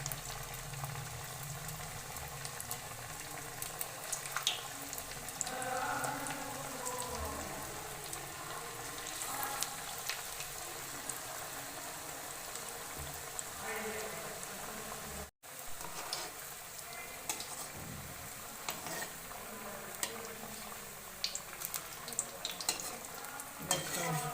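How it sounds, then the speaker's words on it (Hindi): Cabbage tikki cutlets fry in hot oil over a low gas flame, a soft, steady sizzle and bubbling that runs on and on, faint and close, with occasional light scraping and stirring. "तेल हमारा गरम हो गया है। अब गैस हम स्लो कर देते हैं। स्लो आंच पे पकाएं"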